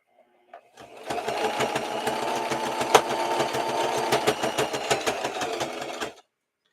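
A home sewing machine runs steadily, stitching an original-design doll, its motor whirring in a rapid, even chatter for about five seconds before stopping. It sounds close and loud, with no voices.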